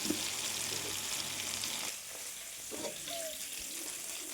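Tomatoes for pickle fry in hot oil with a faint, steady sizzle and crackle, interrupted by quiet stirring and a few small clinks.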